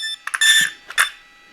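A brushless RC car's electronic speed controller gives calibration beeps: a short chirp, then a sustained tone, then two more quick beeps, all clear and close with no other sound around them.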